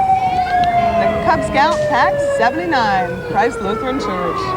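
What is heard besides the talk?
ambulance siren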